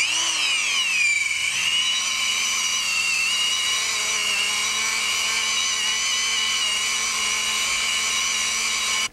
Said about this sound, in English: all we really need to do is let the Dremel tool do the work for us